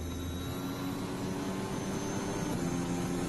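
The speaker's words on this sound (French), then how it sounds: "on l'entend au bruit du moteur qu'on entend à nouveau." A Formula 1 car engine during second practice of the 2021 Abu Dhabi Grand Prix at Yas Marina gives a steady, continuous high-pitched whine, heard at a distance over a broad, roaring background.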